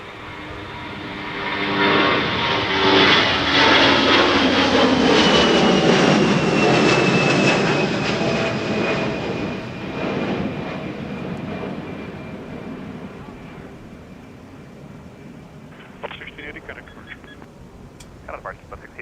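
An airplane lands in a crosswind at Minneapolis–St. Paul Airport: a jet roar swells over the first seconds, holds loud with a whining engine tone, then recedes into a fading rumble, with a few faint clicks near the end.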